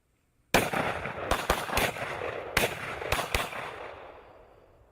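Gunfire from a tactical trainer shooting while moving, heard as about six sharp, loud reports in an uneven sequence over a couple of seconds, each followed by a reverberant wash that slowly fades. No talking is heard.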